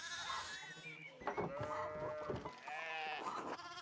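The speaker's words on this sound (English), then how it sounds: "So the sheep are blocking certain places." Sheep bleat in a medieval abbey setting in the video game Pentiment, several overlapping calls with clear harmonic wavering, fairly close and steady over a soft ambient background, with no talk.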